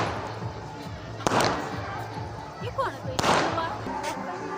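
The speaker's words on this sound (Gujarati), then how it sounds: "જો નાઇટ ફટાકડા ફોડી રહ્યા છે અત્યારે મસ્ત." Firecrackers bursting outdoors during Uttarayan kite festival celebrations: two sharp broadband cracks stand out over a busy background of distant pops and crowd noise.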